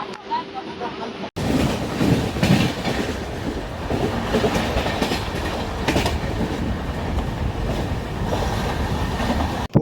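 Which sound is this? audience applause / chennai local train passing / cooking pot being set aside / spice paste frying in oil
chennai local train passing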